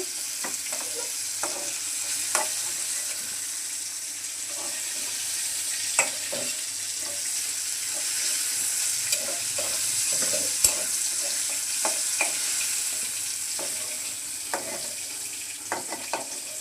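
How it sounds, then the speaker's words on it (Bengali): Potato, pointed gourd and soybean chunks fry in a pan with a steady hiss, broken by scattered sharp clicks and scrapes of stirring over the whole stretch, with no talk. "আলু পটল আর সোয়াবিনগুলো ভেজে নিচ্ছি"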